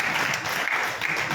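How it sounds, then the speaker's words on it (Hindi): A congregation clapping hands together at a church service, producing a dense burst of close, loud applause with no voices over it. "बजाओ ताली।"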